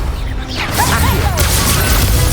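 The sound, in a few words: Accio spell cast in video game Hogwarts Legacy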